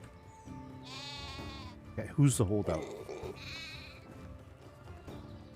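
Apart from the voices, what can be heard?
goats and sheep bleating in the video game Medieval Dynasty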